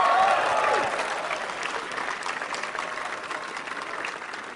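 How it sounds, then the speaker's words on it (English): Applause from a large audience at a 2017 Tesla Model 3 launch event, a loud dense wash of clapping that peaks at the start and slowly tapers off while staying sustained throughout. "Give yourselves a round of applause"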